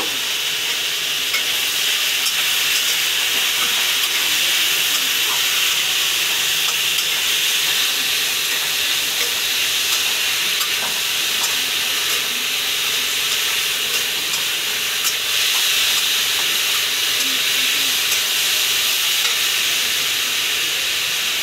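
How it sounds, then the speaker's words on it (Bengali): Water poured into a hot pan of chilli powder and coriander powder, a steady loud sizzle and hissing steam that holds unbroken throughout. "আমি এতটা জল দিলাম, একটু সিদ্ধ হওয়ার জন্যে এতটা জল দিলাম"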